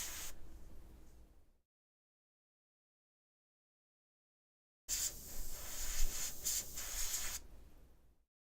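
An airbrush spraying paint onto a model: a short burst of airy hiss, a pause of silence, then a longer, louder spray that tapers off, all close up.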